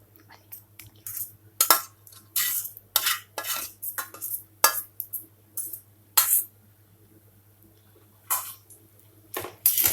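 A spoon scrapes and clinks against a metal pan as roasted onion is stirred into potatoes for a dry potato sabji. The taps come in irregular bursts, close and fairly quiet.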